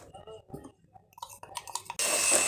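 Orange cake batter with flour being whisked; loud, steady broadband mixing noise starts abruptly partway through, after a stretch of quiet talking.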